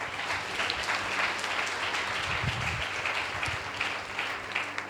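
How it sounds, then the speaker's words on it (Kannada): Sustained applause from a church congregation following prayer, a dense steady wash of many hands clapping together for the full stretch at an even, moderately loud level. "ಜೋರಾಗಿ ಚಪ್ಪಾಳೆ ಹೊಡಿ"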